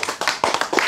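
Hands clapping during a religious lecture, a short burst of several quick, uneven claps close by, moderately loud.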